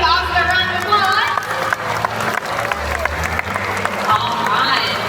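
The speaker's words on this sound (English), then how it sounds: "How about we give Oscar a round of applause?" An audience at the Singapore Night Safari's Creatures of the Night show claps for Oscar the owl, scattered applause mixing with crowd noise and background music rather than one clean burst.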